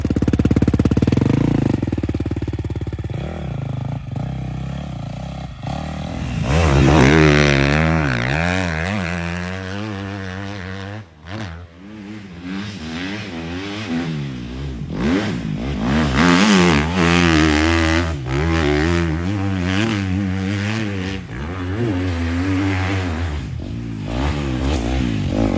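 Motocross motorcycle engine revving hard during a timed practice lap, starting with a rumble then climbing into loud, sustained high-revving passes with rising and falling pitch as the bike accelerates and shifts, close and continuous.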